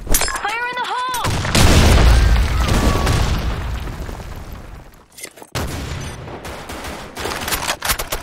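A loud grenade explosion in the shooter game Blackshot booms and rumbles for several seconds, preceded by a short burst of electronic game tones and followed by scattered gunfire and a second sharp crack.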